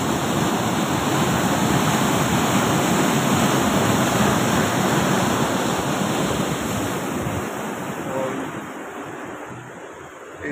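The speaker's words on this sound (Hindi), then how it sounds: "और आवाज़ भी काफ़ी आ रही है पानी की।" Fast-flowing water rushes loudly through a canal weir in a rural Punjab village, a dense, continuous roar that holds steady and eases slightly toward the end.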